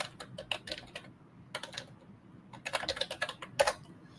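Typing on a computer keyboard during a coding demo, with irregular bursts of quick clicking keystrokes separated by short pauses, close and clear with no talking.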